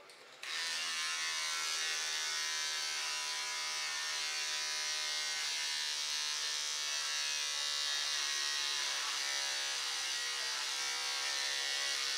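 Electric hair clippers cutting hair buzz steadily and close by, a continuous bright drone with slight wavering as they move through the hair.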